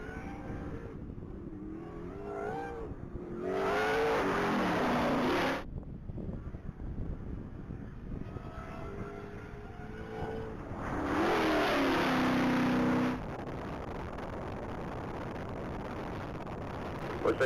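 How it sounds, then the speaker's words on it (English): A blue 2001 Chevrolet Monte Carlo NASCAR stock car on a mile-long top speed run at the Texas Mile, its engine roaring past in two loud surges with rising pitch, wind noise and a distant announcer between passes. "vehicle 454 is on track. That's Craig Pellet in his blue 2001 Monte Carlo NASCAR car"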